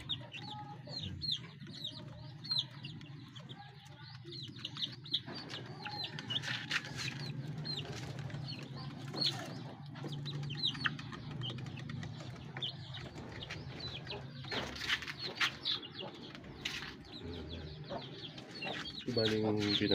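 Chickens and young chicks cluck and peep steadily inside a cage, a busy close-up chorus of overlapping calls that carries on without pause.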